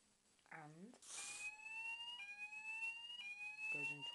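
An Apollo S65 smoke alarm set off by deodorant spray sounds a loud, piercing continuous tone, with brief voice sounds just before it starts and again near the end.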